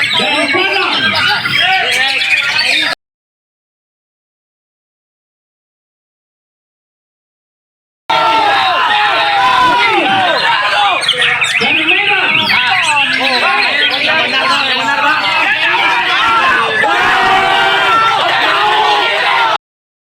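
Kacer magpie-robins at a songbird contest sing in dense overlapping chirps and squawks amid crowd chatter and talk, loud throughout, with a silent gap of several seconds partway.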